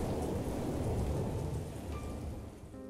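Thunderstorm with steady heavy rain on surfaces and a deep rolling rumble of thunder, loud and continuous throughout, with no voices.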